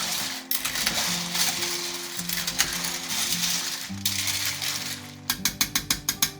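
Winkles being stirred in a pot of boiling water give a busy rattling clatter of shells against the pot, ending in a run of sharp, evenly spaced clinks, close and fairly clear.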